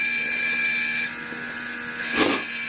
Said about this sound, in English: I'll just chamfer and deburr this once more.